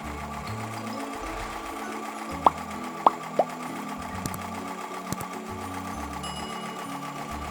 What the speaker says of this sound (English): And then back to the sewing machine.